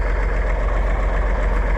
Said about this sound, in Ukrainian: Поле рівне, трактор йде нормально, не стругає.